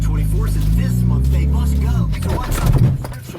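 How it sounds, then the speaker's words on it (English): A Mitsubishi Evo 8 starts and moves off with a steady low engine drone that shifts as it rolls, close by, with a voice speaking over the later part. "Maybe I should move the car first."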